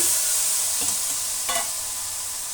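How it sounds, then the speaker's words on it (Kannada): Jaggery goes into a pan and is stirred, making a steady soft sizzling wash with a few faint scrapes of the spoon, close by and with no talking. "ಅದೇ ಬಾಣಲಿಗೆ ನಾವು ಬೆಲ್ಲನ ಹಾಕೋಣ"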